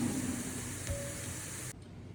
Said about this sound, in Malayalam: ഞാൻ ഇത് ഒന്ന് വേഗം ഫ്രൈ ആവാൻ വേണ്ടിയിട്ട് ഒരു സ്പൂൺ ഷുഗർ ഇട്ടിട്ടുണ്ട്